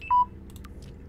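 A short electronic beep from a phone notification, a single brief tone followed by faint soft clicks in a quiet room.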